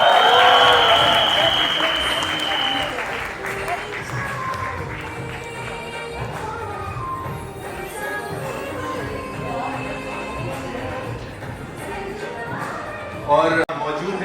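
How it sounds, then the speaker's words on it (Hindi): Applause and cheering from an audience at a Bollywood song launch event, a dense crowd swell loudest at the start then settling into steady, softer clapping with voices mixed in. "Please एक बार जोरदार तालियों से स्वागत कीजिए Mr. Bhushan Kumar का"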